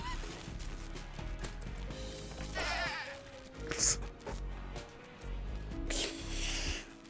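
Sheep in the video game RimWorld, with several loud, wavering bleats repeated over a few seconds above low game ambience, alongside honking bird-like calls and faint talk in the background.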